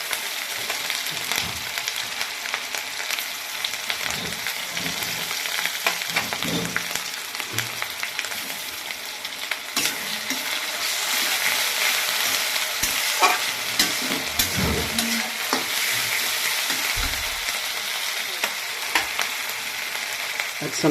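Onion and garlic paste fries in a pan with a dense, steady hiss, while intermittent stirring scrapes and soft knocks come and go over it, and no voices are heard.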